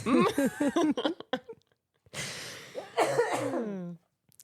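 A person coughs a few times, then clears their throat with a rough, raspy rattle, close and clear, between short quiet pauses.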